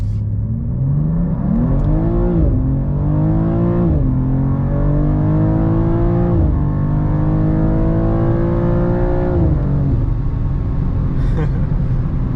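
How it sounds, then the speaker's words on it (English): A 2024 BMW M2 G87 in comfort mode with traction control on pulls hard at full throttle, its engine climbing in pitch through several gears with brief dips at each upshift, loud and close inside the car. "You can just floor it like that. It just goes."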